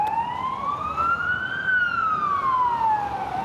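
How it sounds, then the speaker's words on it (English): A car siren wails steadily, its pitch rising then falling as the car passes near a park, loud and continuous over road noise. "It seems to just be a car with a siren"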